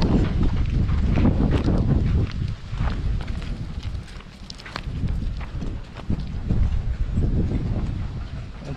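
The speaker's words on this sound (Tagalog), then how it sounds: "Sobrang lakas talaga ng hangin." Strong wind roars and buffets steadily, rising and falling in heavy gusts with rough rumbling close to the microphone.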